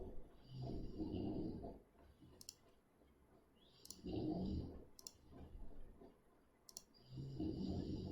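A computer mouse clicks quietly up close in short clusters of rapid clicks separated by gaps, faint soft rustling underneath and no talk.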